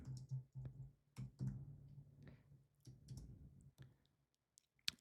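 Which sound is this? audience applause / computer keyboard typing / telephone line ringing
computer keyboard typing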